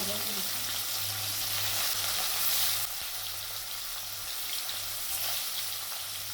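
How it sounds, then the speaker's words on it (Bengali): Pieces of katla fish frying in hot oil in a wok, a loud steady close sizzle with a constant low hum underneath and no break in the crackle. "এরপর কড়াইতে তেল বসিয়ে তেলটা গরম হয়ে গেছে, এরপর মাছগুলোকে ভেজে নিচ্ছি।"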